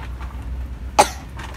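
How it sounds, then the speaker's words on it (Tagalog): A single short cough, close and sudden, over a quiet background hum. "Yan, inuubo ka."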